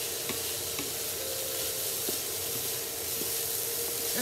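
Cauliflower seafood fried rice stir-fried in a pan gives a steady, dense sizzle, with a few soft scraping stir strokes spaced through it and no voices.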